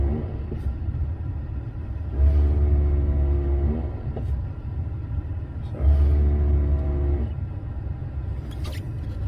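A car's ABS unit cycles its valves during an automated brake bleed test, making two long pulsing buzzes with a low rumble, separated by a quieter mechanical hum.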